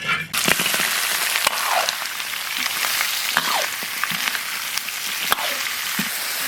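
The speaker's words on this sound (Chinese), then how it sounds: "把糖炒到沫大泡转小泡，倒入排骨" Pork ribs drop into caramelized sugar in a hot wok, sending up a dense, loud, steady sizzle with scattered sharp crackles and pops throughout.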